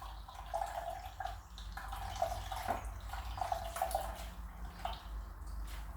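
Homemade oat milk is squeezed and twisted through a straining bag, giving soft, close splashing and trickling with intermittent drips into a container, with no talking.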